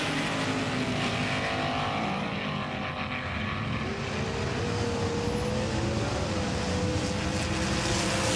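Race car engines drone steadily around a track during a Road Warriors battle, a continuous mid-distance roar with slowly shifting pitch as cars swap lanes, no clear voices over it.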